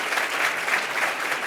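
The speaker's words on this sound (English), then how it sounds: "let's give them a round of applause" An audience claps for community organization leaders at an equity event, dense steady applause from a roomful of people that carries on without a break for the whole short stretch.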